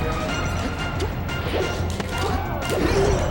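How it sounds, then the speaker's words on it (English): A forward smash attack landing in a Super Smash Bros match at a losers finals tournament gives a sharp crash and thwack amid a dense, steady wash of game sounds and crowd noise, with a couple of swishes. "he's going to get the kill there with a simple forward smash"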